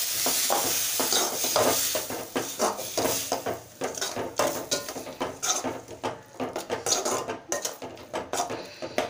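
Masala with turmeric and garam masala sizzles in a pan as water goes in for a masala dosa filling, with repeated scraping stirs of a spoon against the pan in an uneven, close rhythm.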